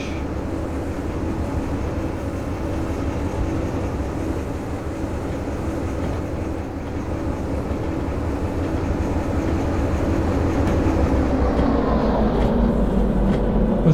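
Four locomotives haul four empty flatcars in the train simulator game Derail Valley. The result is a continuous, loud rumble and engine drone with faint rail clatter that builds slightly as the train picks up speed, with no talking.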